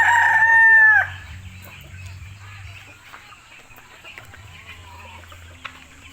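Chickens and young birds on a Filipino backyard farm: a rooster's crow rings out loudly at the start, then quieter clucking and scattered fowl calls continue in the background.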